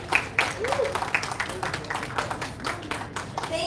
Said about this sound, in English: May we all give him another round of applause, please, for that opening remarks